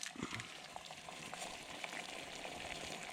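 Water boils on a camping burner for coffee, a faint, continuous bubbling hiss with small pops and no talk.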